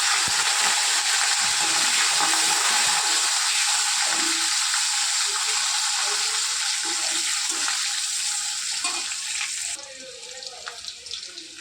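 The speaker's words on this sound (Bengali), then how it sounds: "দেখুন, উচ্ছেগুলো ভাজা ভাজা হয়ে গেছে" Bitter gourd slices frying in oil for shukto, a steady loud broadband sizzle that holds for most of the stretch and then drops off near the end.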